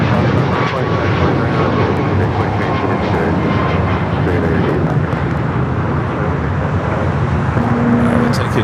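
United Boeing 737-800 in Star Alliance livery touches down at LAX, a loud, sustained broadband roar of jet engines with faint radio chatter mixed underneath.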